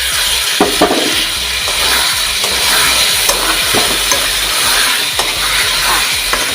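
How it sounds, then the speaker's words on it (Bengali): Cumin, coriander, ginger and chili spice paste stir-fried with raw jackfruit in a pan, a loud, close sizzle broken by repeated scraping and stirring strokes of a spoon against the pan, with no one talking. "এবার আমি মশলাটা দিয়ে দিচ্ছি দিয়ে এবার মশলাটা দিয়ে কষবো"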